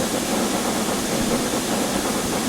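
A long freight train of mixed wagons rolls along in Transport Fever 2, giving a steady, even rumble with a low engine drone that holds throughout without pause.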